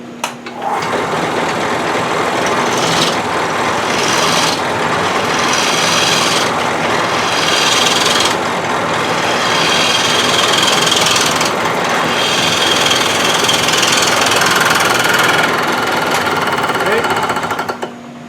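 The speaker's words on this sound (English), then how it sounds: "I'm going to use the heavier half-inch gouge, just because it's got some more mass in it." A heavy half-inch gouge cuts the outer part of a wooden leg for a winged box that has a glued crack. The cutting makes a loud, continuous rough roar with a steady hum beneath it and brief dips every few seconds.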